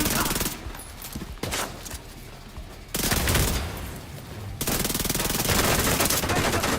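Gunfire from The Division 2 plays as dense, loud bursts of automatic fire with short pauses between volleys, close and continuous across the clip, with speech mixed in.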